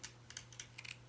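Scissors snipping a small heart shape out of burlap, a few quick close crisp cuts, faint and alone.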